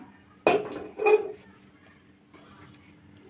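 A frying pan set back onto a stove while making chitoi pitha, giving two close metallic clanks in quick succession, followed by a faint clatter.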